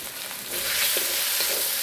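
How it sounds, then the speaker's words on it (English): Kung Pao chicken pieces stir-fry in hot oil in a wok, giving a continuous loud sizzle with occasional scraping stirs and sputters, no voices over it. "Always stir fry."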